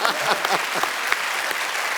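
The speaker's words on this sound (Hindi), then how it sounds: "जोरदार तालियां एक बार ऋषि सर के लिए।" Loud, sustained applause from a studio audience at a TV comedy talk show, dense clapping at steady strength throughout, with a few voices mixed in.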